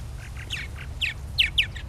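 A male purple martin sings a cheerful run of short, bright chirps and warbles in a backyard, the notes loose and irregular, clearest near the end, over a steady low hum.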